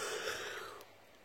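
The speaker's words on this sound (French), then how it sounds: "je baille" A single drawn-out yawn from a woman, breathy and airy, fading over about a second, close and fairly quiet with no talk.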